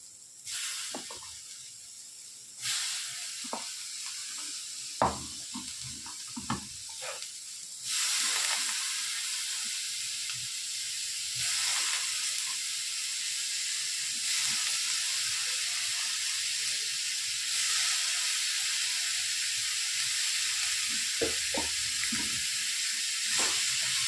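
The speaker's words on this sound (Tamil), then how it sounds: "உப்பு போட்டு இந்த வாழைக்காவை எடுத்து அதில் போட்டு பிரட்டிக்கணும்" Raw plantain pieces with salt sizzling in a hot pan, a steady bright hiss that jumps louder in stages as the slices are tossed, with faint scraping and clicks throughout.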